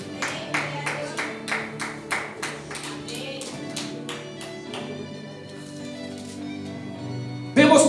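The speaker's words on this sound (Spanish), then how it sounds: "Dele una ofrenda de aplausos al que vive." A church congregation claps in a quick, even rhythm of roughly a dozen sharp beats against a sustained musical backing, fading into the music before a brief loud burst at the end.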